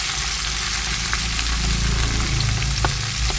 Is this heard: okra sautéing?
yes